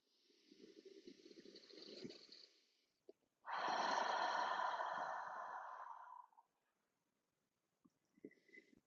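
A slow, deep breath drawn in and released during a seated meditation: a soft airy inhale, a brief pause, then a longer, fuller exhale, close and quiet with no talking.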